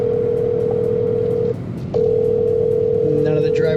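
A steady telephone dial tone hums through an unanswered call to a car dispatch company, pausing once briefly before resuming, with faint tones and a voice-like sound creeping in near the end.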